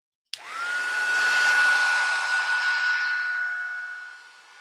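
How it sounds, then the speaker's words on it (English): A crafting heat tool switches on with a click and blows a steady, loud, close whirring roar for several seconds, with a high whine running through it, before it begins to fade. "Sorry for the heat tool."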